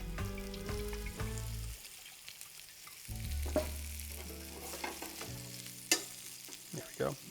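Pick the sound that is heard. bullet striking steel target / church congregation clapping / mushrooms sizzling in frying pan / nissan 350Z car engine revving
mushrooms sizzling in frying pan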